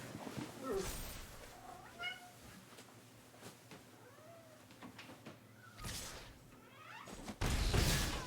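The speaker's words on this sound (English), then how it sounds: "You want out, kitty?" A house cat meows repeatedly to be let out, several rising and falling cries spaced across the stretch, fairly close, with soft rustles and a thump or door-like knock near the end.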